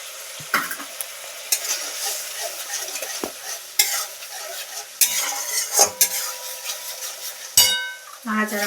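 A spoon stirs raw banana kofta curry in a metal pan, with repeated scraping clinks and bursts of wet sizzling, close and fairly loud, in uneven strokes throughout.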